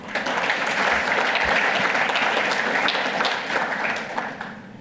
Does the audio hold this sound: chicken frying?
no